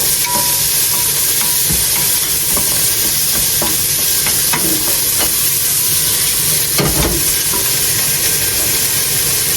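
Meat fries loudly in hot oil in a pan, a constant dense sizzle with repeated scraping knocks as it is stirred, close and without speech.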